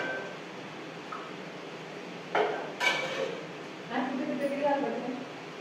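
A spoon clinks against a breakfast dish in a few short, close metallic taps and scrapes, separated by quiet pauses.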